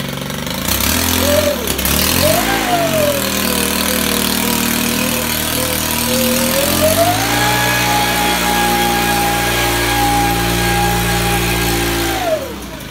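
An engine-powered blower attachment runs loudly throughout, its pitch dipping and rising as the motor loads and revs, then holding a higher steady whine before dropping off near the end.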